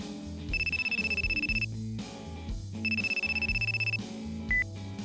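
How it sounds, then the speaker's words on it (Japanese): A telephone ringtone trills in two rapid warbling bursts about a second long each, separated by a pause, set over soft background music with a short beep near the end. "着信音が鳴って、"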